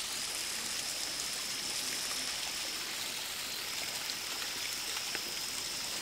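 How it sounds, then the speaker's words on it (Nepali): Water from a waterfall rushes and trickles in a steady, even hiss, moderately distant and unbroken, with no voices present. "त्यो झरनाको पानी यसरी आइरहेको छ,"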